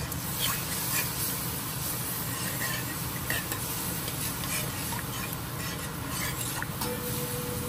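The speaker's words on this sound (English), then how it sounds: "I'm going to let this fry up nicely and then I'll throw the conch." Shrimp curry frying in a pan and being stirred: a dense, steady sizzle with light scraping and clicks from the stirring, close and continuous, with no talk.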